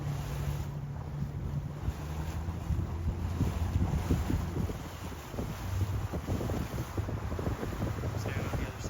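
Wind blowing over a boat heading out on cold open water, a steady rushing roar with microphone buffeting and a low engine hum beneath, continuous and close.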